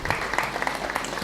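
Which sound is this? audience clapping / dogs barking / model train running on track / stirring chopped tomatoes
audience clapping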